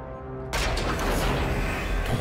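Missiles fire in the Call of Duty Infinite Warfare video game: a quiet hum cuts into a sudden loud, sustained roaring blast that rumbles on steadily for over a second, with a fresh burst near the end.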